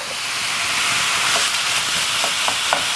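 Lean ground turkey sizzling loudly in a hot pan as it is broken up, a constant frying hiss with occasional scraping taps from a utensil, close and continuous.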